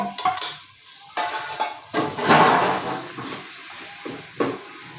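Potato wadiyan frying in ghee in a pan with masala, sizzling loudly close by, while a spoon stirs and scrapes against the pan in intermittent bursts.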